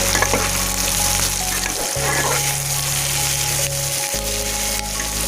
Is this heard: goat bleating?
no